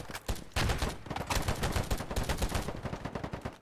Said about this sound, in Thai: ยิงไม่โดนเลยนะท่านผู้ชม มันอยู่ข้างบนเต็มเลย